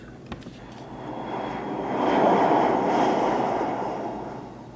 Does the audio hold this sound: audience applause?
no